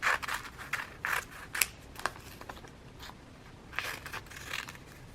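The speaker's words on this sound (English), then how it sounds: "I'm going to cut these into smaller pieces for the collage" Scissors snip through wrapping paper for a collage, a quick series of close, crisp cuts with short pauses, some snips in rapid bursts, no talking.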